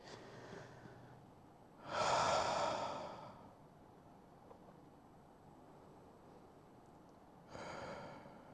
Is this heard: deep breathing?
yes